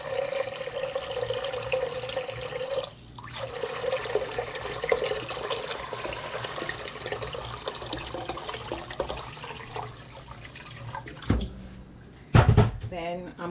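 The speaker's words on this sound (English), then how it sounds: "Now I'm gonna go ahead and add my water. I'm putting like 2 cups of water." Water running steadily into a cooking pot for Jamaican rice and peas, about two cups poured in a continuous stream, with a brief pause and clattering kitchen handling noises near the end.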